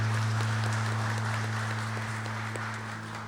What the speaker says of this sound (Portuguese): Uma salva de palmas aí para esses homens aí.